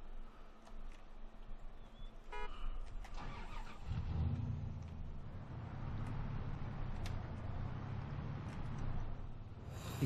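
A car engine in the survival video game Miscreated turns over and starts, then settles into a steady mid-pitched running drone as the vehicle drives on, with clicks and small knocks at the start.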